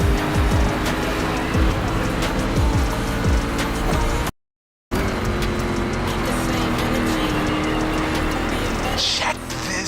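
A rally raid prepped Mustang GT driving in The Crew 2, a loud continuous engine drone with tire noise, a brief cut to silence partway, then the engine resumes.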